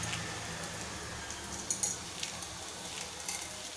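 Crushed coriander seeds sizzling in hot oil for samosa filling: a soft, steady frying hiss with a few light clinks, quiet and close.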